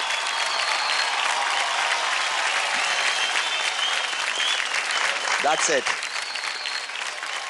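Loud audience applause fills a televised dance competition stage, a dense steady wash of clapping throughout, with a brief spoken phrase and a short vocal swell near the end.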